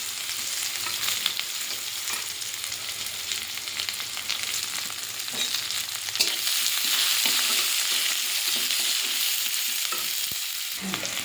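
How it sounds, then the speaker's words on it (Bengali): Chopped onion frying in a hot wok after spices are tempered, a loud, steady sizzle running throughout with occasional stirring scrapes and crackles close by. "পেঁয়াজটা ভাজা ভাজা করে নেব।"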